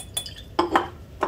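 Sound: glass Erlenmeyer flask clinking during rinsing

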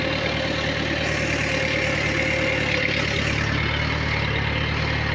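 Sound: tractor engine puddling a paddy field

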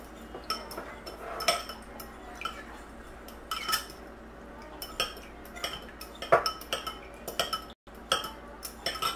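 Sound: mixing aloe vera gel with alcohol in a bowl

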